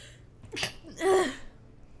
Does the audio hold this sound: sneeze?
yes